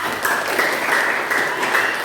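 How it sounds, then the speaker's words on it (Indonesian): A classroom of schoolchildren applauding after a group presentation, dense steady clapping that fills the whole stretch without pause. "Beri tepuk tangan dulu dong yang meriah."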